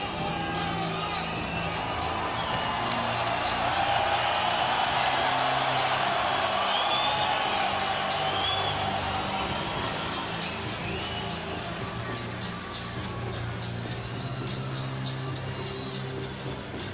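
A massive crowd cheers and roars in the Grand Garden Arena before the Haney vs Lomachenko boxing ring walk. The steady, dense roar fills the whole stretch with no break, rising slightly around the middle.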